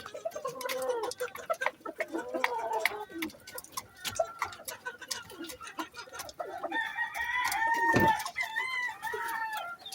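Several roosters, including a strip-combed bull stag and its siblings, crow and cluck close by, with repeated crowing calls overlapping busy clucking and scratching throughout.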